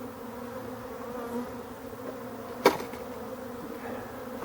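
A buzzing honeybee hive being shaken gives a continuous droning hum of many bees, close and steady, with one sharp knock partway through.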